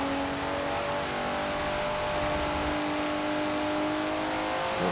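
A Nissan Skyline R34 in Forza Horizon 4 pulls hard through third gear, its engine holding a steady, loud droning roar that climbs gradually in pitch, close and continuous with no talking.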